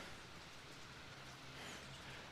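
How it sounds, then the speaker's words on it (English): Steady rain falls outdoors as a soft, continuous hiss that stays even throughout, faint and without voices or other distinct sounds. "This rain is doing a lot."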